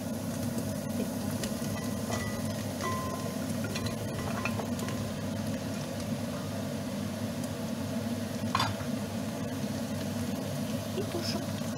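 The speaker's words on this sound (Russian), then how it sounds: "И когда чеснок даст аромат, засыпаем сюда тыкву." Pumpkin tipped into a pan of frying garlic for pumpkin soup, a steady dense sizzle and hiss running throughout at moderate level, with occasional faint clinks and stirring scrapes.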